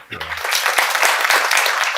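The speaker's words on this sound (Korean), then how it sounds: "예, 박수 주십시오." Audience applause follows a request for a hand during a prosecutors' training lecture, a broad steady wash of clapping that rises quickly and holds loud after a brief voice at the start.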